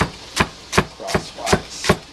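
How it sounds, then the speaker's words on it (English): A knife slices through rolled-up kohlrabi greens lengthwise, five crisp evenly spaced chops about a third of a second apart, close and clear with nothing else heard. "roll them into a cigar, cut lengthwise and then"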